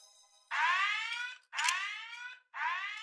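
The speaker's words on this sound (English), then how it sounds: "That was my virgin alarm. It's programmed to go off before you do." A sci-fi comedy film's electronic alarm sounding in three loud, harsh buzzing bursts of about a second each, with short gaps between them and no other sound.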